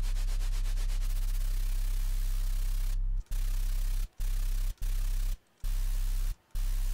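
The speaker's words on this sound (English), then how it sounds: "I'll transpose the white noise." White noise transposed down in a software sampler hisses alongside a deep low hum, broken by several short abrupt silences in the second half.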